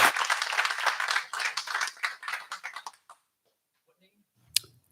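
An audience at a township council meeting claps in a dense burst that thins into scattered claps and stops after about three seconds, followed by near silence and one faint click.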